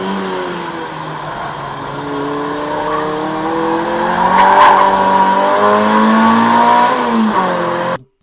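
Yokohama AD08 semi-slick tires squeal loudly as a car slides out of a corner on a track, a sustained wavering screech over the engine's rising note, close and without speech.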